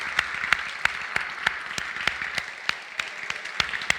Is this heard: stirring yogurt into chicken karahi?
no